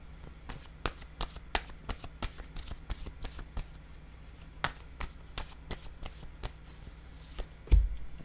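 A tarot card is set down on the table after a run of sharp, close card taps and flicks. Short crisp snaps come at an irregular pace, with a louder thud near the end.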